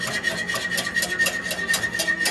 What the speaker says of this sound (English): And keep on whisking.